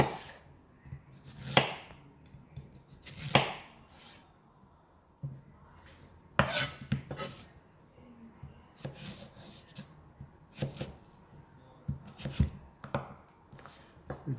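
A knife chops zucchini into small pieces on a board for a ham and vegetable quiche, giving scattered sharp cuts in short bursts with quiet pauses between them.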